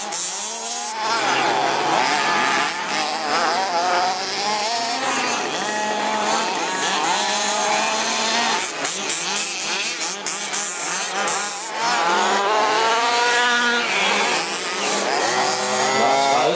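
Several HPI Baja petrol RC cars race at a 2008 cup event in Hillerød, their small engines buzzing loudly and continuously, overlapping and rising and falling in pitch as they rev through the track.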